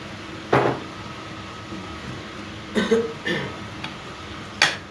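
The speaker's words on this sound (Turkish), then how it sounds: "Öksürmekten uyuyamıyorum." A few separate coughs from an ill person, sharp and fairly close, one early, a short cluster in the middle and one near the end, with quiet room sound between them.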